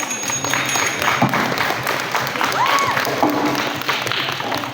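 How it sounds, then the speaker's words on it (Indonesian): A middle school debate audience claps in a steady, dense patter that fills the whole stretch. It is moderately loud with faint crowd murmur underneath. "mari kita berikan tepuk tangan"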